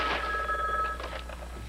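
A telephone rings with a bright, trilling electronic bell tone, heard close and alone over a steady low hum, in a dramatized office setting.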